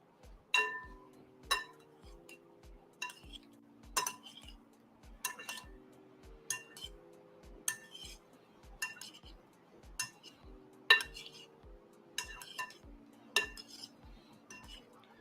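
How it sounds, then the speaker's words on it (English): A trusty spoon clinks and scrapes against a bowl while mixing plain fruit, the knocks landing in a steady, repeating stirring rhythm, close and fairly quiet with no talking. "let me mix this up a bit. I got my trusty spoon here"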